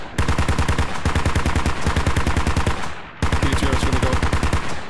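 Heavy machine gun fire in the military shooter Squad comes as loud, close, rapid sustained bursts with regular rhythmic shots, broken by two brief pauses, and no speech over it.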